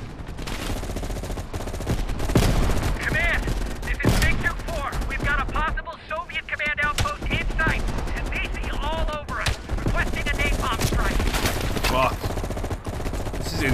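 Rapid gunfire fills a Call of Duty: Black Ops Cold War firefight on a ridge, with sharp repeated shots and bursts layered over music and a voice speaking in the middle.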